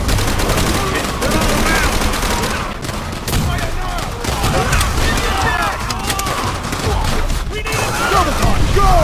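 Dense gunfire from the Call of Duty: World at War mission "Semper Fi", with rapid machine-gun bursts and rifle shots rattling continuously over loud battle noise, while shouting voices are heard through the fight.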